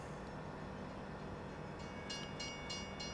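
A train rolls along a wooded rail line in the video game Farming Simulator 17, a steady rumbling run with bright metallic clicks near the end and no voices.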